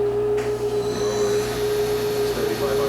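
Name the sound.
Fadal vertical machining center spindle running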